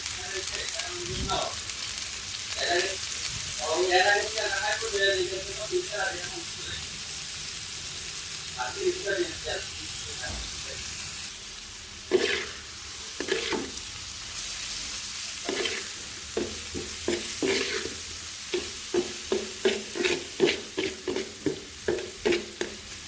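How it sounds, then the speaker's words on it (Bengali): Bitter gourd fries in a pan with onion, green chili, salt and turmeric, giving a soft, steady sizzle with stirring scrapes and a run of quick clicks near the end, with some faint talk. "এটাকে আস্তে আস্তে ভাজা ভাজা করে নিব"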